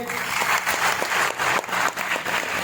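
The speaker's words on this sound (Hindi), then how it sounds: "एक जोरदार ताली होना चाहिए" Loud, sustained applause from a crowd at a Safe Shop direct-selling leadership event, welcoming a guest to the stage, steady throughout with slight swells and voices faintly mixed in.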